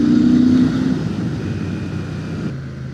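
A Royal Enfield Shotgun 650 motorcycle ridden along English country lanes, its steady engine drone loud and close, easing slightly lower toward the end.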